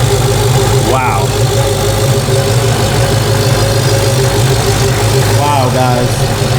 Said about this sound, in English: The world's first naturally aspirated Hellcat.